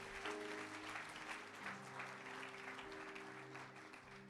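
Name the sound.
congregation applauding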